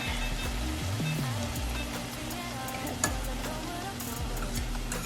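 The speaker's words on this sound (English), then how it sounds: "And just let that simmer." Seasoned ground turkey simmering in a pan over medium-low heat, a steady soft bubbling and faint sizzle with occasional stirring scrapes and one brief clink, no talking.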